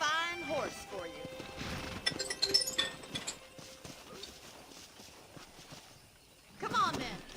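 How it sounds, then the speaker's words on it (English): Horse hooves clip-clop at a walk in the Western game Red Dead Redemption, a few soft uneven steps under the game's background music and voices. "I picked out a fine horse for you."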